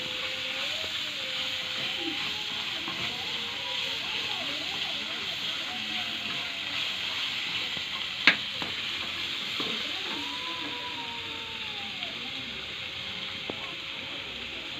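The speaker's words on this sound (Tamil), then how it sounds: "வெங்காயம் தக்காளி நல்லா வதங்கி வருது பாருங்கள்" Onion and tomato sauté in a pan for semiya kichdi, a steady hissing sizzle heard beneath a person speaking throughout, with one brief sharp clink of a utensil midway.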